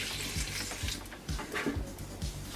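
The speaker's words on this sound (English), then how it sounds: "I rinsed it under the sink so I could get all the grit and dirt off of it" Celery being rinsed under a running kitchen sink tap, with a steady wash of water spray and a few faint knocks in the basin, heard alone without talk.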